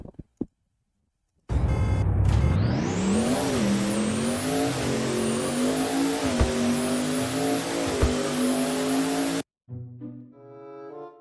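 Porsche engine in the video game Car Dealership Tycoon revving hard and climbing steadily in pitch, loud and continuous for several seconds, with tire squeal and a brief stop before it cuts out abruptly.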